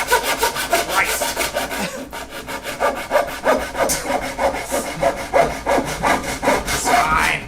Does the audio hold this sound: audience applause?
no